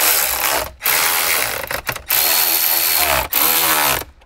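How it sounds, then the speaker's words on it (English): A ratchet drives 10 mm bolts down during a dash installation in a Toyota 4Runner. There are three close, loud bursts of rapid clicking and whirring, each broken by a brief pause. "we didn't really screw down our 10 millimeter bolts all the way, so let's go ahead and do that"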